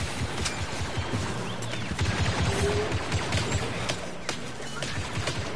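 Blaster fire in the video game Star Wars Battlefront 2 during a night Ewok hunt: rapid bursts of shots over a busy battle din, fairly loud and dense, with no clear talk.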